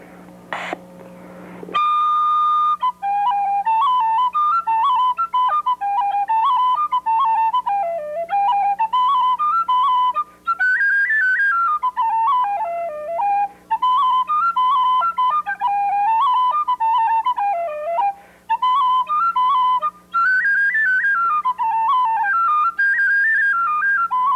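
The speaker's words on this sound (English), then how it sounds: "Two more tunes on the tin whistle this time. These are two reels." A tin whistle plays a pair of lively Irish reels in a 1971 performance. The melody runs fast and unbroken, with steady ornamented phrasing, close and clear, and only brief breaths between phrases.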